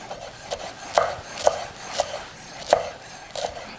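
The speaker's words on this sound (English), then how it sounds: "And then I'll just chop it normally." A knife chops parsley on a cutting board in a home kitchen, giving crisp, close, irregular knocks about twice a second over a quiet background, with no talking.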